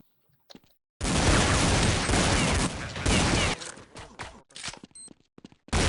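Gunfire in Counter-Strike on the dust2 map, a loud sustained burst of rapid shots lasting about two and a half seconds, followed by scattered single shots, clicks and footsteps, then a final shot at the end.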